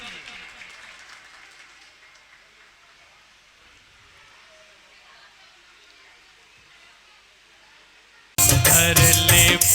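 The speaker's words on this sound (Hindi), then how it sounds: "बहुत सुंदर, ताली बजा करके स्वागत कीजिए।" Audience at an evening Daslakshan Mahaparva program at Ahinsa Dham, Madhu Vihar, clapping to welcome children. A steady wash of applause runs for about eight seconds, then a sudden loud burst of music or noise cuts in at the end.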